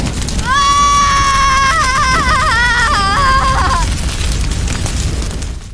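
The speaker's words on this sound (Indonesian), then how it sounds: "Bola api melesat ke arah kedua siluman itu, menghantam keduanya dengan keras." A fireball explosion slamming into two demons in a spoken horror story, heard as a loud, sustained roaring blast with shrieking, wavering tones across it for about four seconds before it fades into a rumble. No one speaks.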